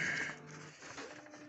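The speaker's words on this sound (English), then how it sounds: "no more paper jamming printer" A Samsung CLX-6260 laser printer runs with a steady, fairly quiet whirring hum and faint mechanical feed noise, close by and without talk.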